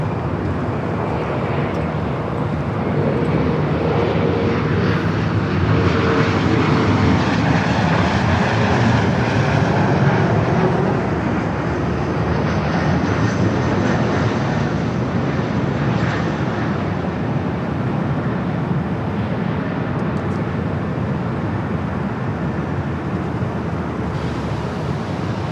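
An Air Canada Express Jazz CRJ 900 regional jet arriving at Los Angeles airport, its engine roar swelling up from the start, peaking midway and then easing into a sustained rushing rumble.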